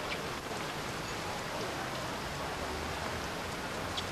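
Steady rain falling on an outdoor bowls green, a dense even hiss of drops with occasional sharper patters, continuous and moderately faint throughout.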